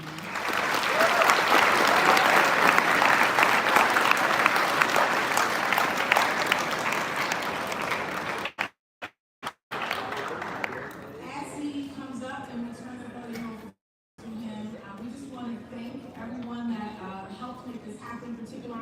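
An audience at a live event in Topeka applauds the city mayor, steady dense clapping filling the room for several seconds before breaking off, then someone speaks over the fading crowd.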